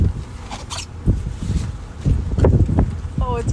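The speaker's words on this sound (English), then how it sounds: "Oh, it's windy." Gusty wind outdoors on an icy winter morning buffets the microphone in uneven low rumbles and surges while people talk nearby.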